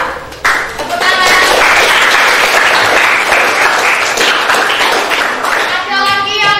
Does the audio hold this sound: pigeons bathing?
no